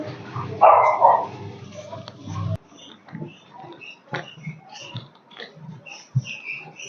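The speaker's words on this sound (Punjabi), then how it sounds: "ਆ ਕੁੱਤੇ ਦਾ ਬੰਨ ਲਿਆ ਕਰੋ ਪਹਿਲਾਂ ਕੁੱਤਿਆਂ ਦੇ ਦਰਸ਼ਨ ਕਰਨੇ ਪੈਂਦੇ ਆ" A dog barks loudly and close by in an opening burst, then quieter scattered yaps and noises follow through the rest.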